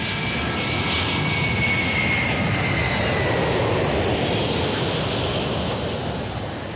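A fixed-wing airplane passes low overhead on the Heathrow flight path above a West London suburban back garden, its broad roaring engine noise loud and steady throughout before easing slightly at the end, with no voices.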